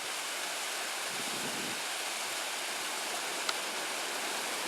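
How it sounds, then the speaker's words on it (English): A river tumbling over a small cataract-type waterfall in the wilderness, a steady broadband rushing wash that stays constant throughout, with no voices. "there's a river and a little cataract type waterfall, which is just really cool"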